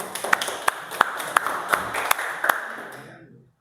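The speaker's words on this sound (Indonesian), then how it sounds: "Berikan apresiasinya, tepuk tangan." A small audience claps in a classroom presentation setting, a sparse run of distinct claps with a light background patter that fades out after about three seconds.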